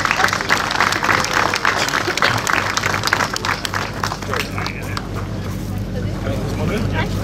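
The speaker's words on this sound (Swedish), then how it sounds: "Vi ger dem en till applåd" A crowd at a junior folkrace event in Fjärås applauds the C-final finalists, steady clapping blended with crowd babble and a low motor rumble running throughout.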